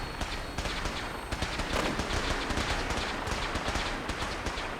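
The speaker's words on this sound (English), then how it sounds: "That's my boy over there shooting." Rapid, dense gunfire from a Fallout game firefight, shots crackling in quick bursts near and continuous throughout, with no talk over it.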